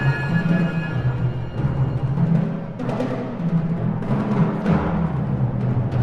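Steady, driving percussion pounds continuously with low booming hits and sharper accents recurring every second or so, dense and insistent throughout.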